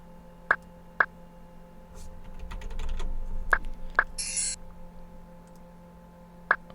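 Sparse, sharp clicks of computer keyboard keys, about six isolated taps spread across a few seconds over a steady low hum and faint background noise.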